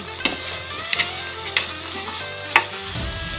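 Chicken binagoongan with eggplant stirred and sautéing in a pan, a steady sizzle with a few sharp scraping clinks of the utensil against the pan, close and alone with no talking.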